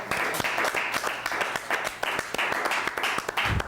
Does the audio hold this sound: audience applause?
yes